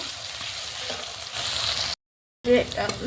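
Onion, garlic and ginger sizzling in oil in a pan, browning until reddish before meat goes in, a steady crackling fry broken by a brief silent gap and then resuming louder.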